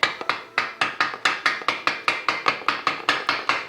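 A wooden hammer end taps an engine part flush during an LQ4 408 stroker build, a fast, even run of about twenty sharp knocks, close and steady, with no talking.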